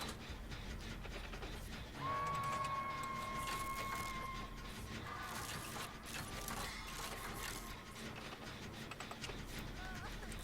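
A generator under repair in the Dead by Daylight video game gives off a steady mechanical ratcheting and clattering, with a tonal whine rising partway through, all at low level under game ambience.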